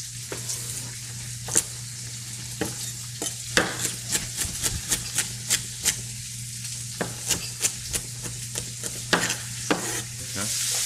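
Onions and sausage sauteing in a pan for a turkey dinner, with a rapid series of sharp spoon scrapes and taps against the pan over a steady sizzle and low hum, no speech.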